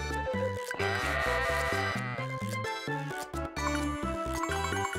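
Sheep bleating in the Story of Seasons: Friends of Mineral Town farming video game, short bleats over bouncy, jingling background music that stays loud throughout.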